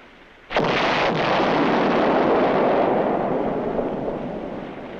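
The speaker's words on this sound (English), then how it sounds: "Nice explosion, Mr. Manley." A loud explosion at sea from a 1954 naval scene erupts suddenly after a moment of quiet, then settles into a long, sustained roar that slowly fades over several seconds.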